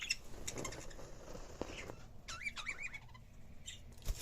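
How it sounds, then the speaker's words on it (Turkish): Small bird chirps and short tweets sound close by in a quiet room, scattered irregularly with a few quick trilling calls. "Şu gördüğünüz de İbrahim Kuşçu'nun kuşu arkadaşlar"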